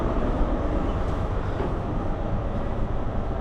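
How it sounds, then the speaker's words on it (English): Steady low rumble and rattle from inside a moving Scottish train, a continuous loud drone of carriage and track noise with no breaks. "So I'm now on the train"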